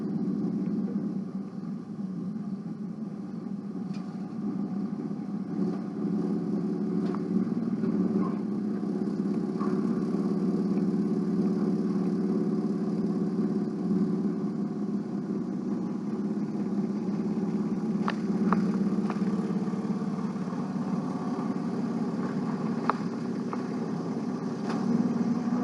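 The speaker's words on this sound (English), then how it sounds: "I'm gonna move the car, guys" A car engine runs steadily at a low, even rumble for a long stretch while the car is moved, with faint clicks and small knocks over the top.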